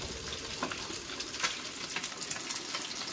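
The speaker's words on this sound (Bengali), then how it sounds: "এখানে হচ্ছে পাবদা মাছ ভাজা হচ্ছে" Pabda fish frying in a pan in a home kitchen, a steady soft sizzle and crackle of oil with occasional stirring clinks, close and fairly quiet.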